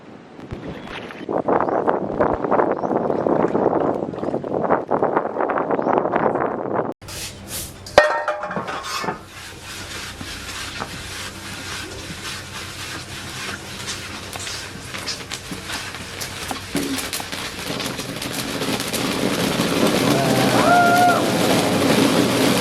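Steady engine rumble and wind buffeting on a moving river boat in Vietnam, with water rushing past and occasional clanks, continuous and fairly loud throughout.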